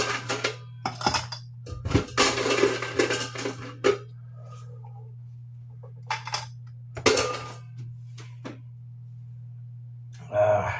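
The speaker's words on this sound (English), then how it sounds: "Give it a muddle. Give it a muddle. Stir it around. Add some ice." Ice dropped into a glass and stirred for a mint julep, bright clinks and rattling clatter in close bursts separated by short pauses, with a steady low hum underneath.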